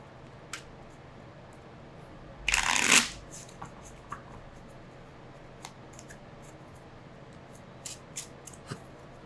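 A board game's main deck is shuffled once in a loud, close burst of riffling lasting under a second, followed by quiet with a few faint ticks and clicks.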